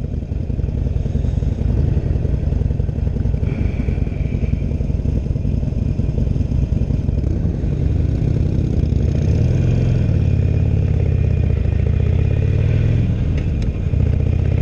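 A 2016 Harley-Davidson Roadster, a Sportster-based motorcycle, rumbles on a test ride, its loud, close V-twin throb steady and lumpy with mild rises in revs and some mechanical clatter.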